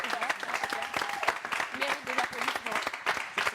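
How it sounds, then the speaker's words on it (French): Studio audience applause on a Gabonese TV arts programme, clapping mixed with voices and chatter that keep talking over it throughout. "Pour ça, oui, applaudissements."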